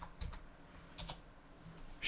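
A few soft keystrokes on a computer keyboard, sparse and quiet clicks in a small room with low background hum.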